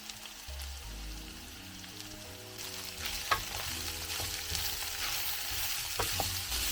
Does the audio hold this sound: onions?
yes